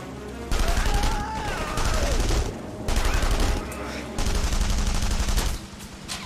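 A mounted turret in The Saboteur hammers out continuous heavy automatic fire, loud and close, in long sustained bursts with brief breaks and faint whistling overtones.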